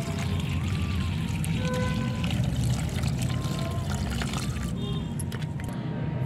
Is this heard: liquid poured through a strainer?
yes